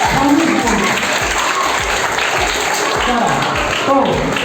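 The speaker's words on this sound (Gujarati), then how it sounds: "ટીમ બી માટે તાળી પાડો" Loud, dense audience applause rolls on steadily for a quiz team at a school competition marking International Mother Language Day, with a voice talking over it.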